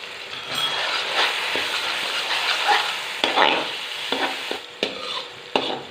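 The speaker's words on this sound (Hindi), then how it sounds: "ये तमाम चीज़ें डालकर इसकी अच्छी तरह से भुनाई कर लेंगे।" Spices, tomato paste, red and green chilies and ginger-garlic paste fry and sizzle in a pan for a vegetable kofta curry while being stirred, with a steady hiss and scraping stirs punctuated by sharper clicks of the spoon near the end.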